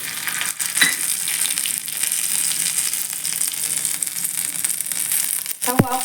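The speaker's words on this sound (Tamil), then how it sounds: "இப்போ கடுகு தாளித்து கொட்டிக்கலாம். அதில் கடுகு சேர்க்குறேன். இதில் வரமிளகாய் சேர்த்துக்கிறேன்." Mustard seeds and dried red chillies sizzle and crackle in hot oil as a tempering for ridge gourd kadaiyal, a steady close frying hiss throughout with a brief stir near the end.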